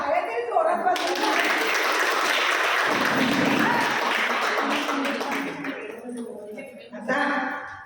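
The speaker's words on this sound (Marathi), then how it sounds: "आणि टाळ्या तरी जोरात वाजवा" A seated audience at a maternity and prenatal-care workshop claps loudly in a burst that swells in after a spoken phrase, holds full and dense for several seconds, then fades as a voice returns.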